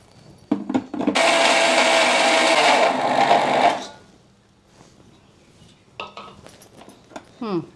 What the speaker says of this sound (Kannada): ಒಂದೇ ಒಂದು ರೌಂಡ್ ಮಿಕ್ಸಿ ಮಾಡ್ಕೊಂಬಿಡೋಣ